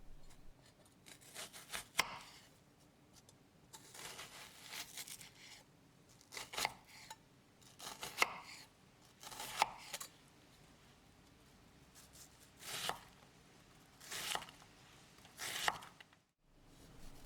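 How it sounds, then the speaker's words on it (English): A knife dices a red onion on a cutting board in quiet, irregular chops, some single and some in quick clusters, fairly close with no talk. "I want to dice the red onion because it will be used for the salsa"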